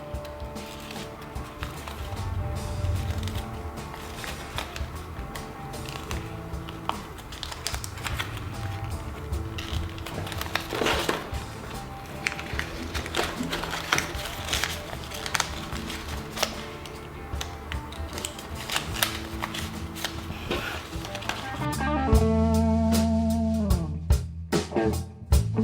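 Paper being folded into an origami slinky gives close, soft crinkles, creases and rustles in an irregular stream, quiet and unhurried, with brief handling taps near the end.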